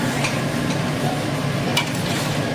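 Mutton pieces fry in a pan while being stirred for mutton kulambu, giving a steady sizzle with a few scraping stirs and light taps, close and fairly loud, with no talking.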